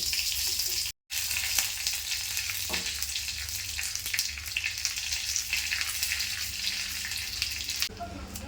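Mustard seeds, a dried red chili and curry leaves sizzle in hot oil for a horse gram chutney tempering, a steady dense crackle close by with a brief dropout near the start.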